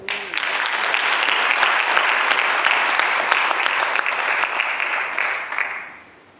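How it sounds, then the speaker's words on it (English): Audience applause at a university farewell function for a departing staff member, a dense steady round of clapping from a crowd that holds for several seconds before fading out at the end. "I think she deserves a round of applause"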